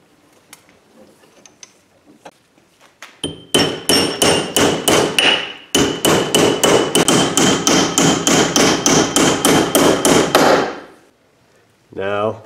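Steady rapid hammering on a metal bracket being bent along a marked line for an electric fan conversion, a quick run of loud close blows that pauses briefly and resumes before stopping, with faint background noise.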